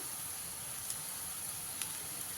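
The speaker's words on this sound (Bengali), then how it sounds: "বেসনটা দিয়ে ভালো করে ভেজে নিয়েছি" Gram flour (besan) mixed with chili powder being fried in a pan over a low flame, giving a faint, steady hissing sizzle with a couple of tiny crackles, with no voices.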